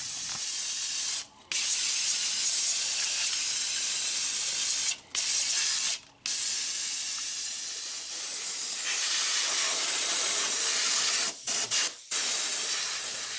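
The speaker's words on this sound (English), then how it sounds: "I'm going to hit everything with a little bit of brake clean" Brake cleaner spray hisses in long continuous bursts onto engine parts of a 2003-2007 Honda Accord 2.4L, loud and close, broken by a few short pauses between blasts.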